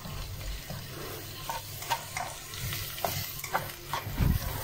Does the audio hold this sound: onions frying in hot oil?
yes